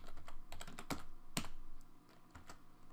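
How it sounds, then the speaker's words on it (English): Commands typed on a computer keyboard while configuring router sub-interfaces, with a quick irregular run of crisp key clicks and a few sharper presses, close and fairly quiet with no talking. "So from here we can just simply type"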